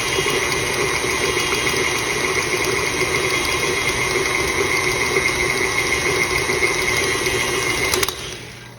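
Stand mixer whirring steadily through chocolate fudge cookie dough, a loud continuous motor drone with a high whine that runs for several seconds and then winds down as it is switched off.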